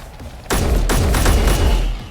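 Turret gunfire in Space Engineers opens suddenly with a loud, booming burst of rapid shots that roll on as a sustained fusillade with heavy low rumble, close and dominant, no talking.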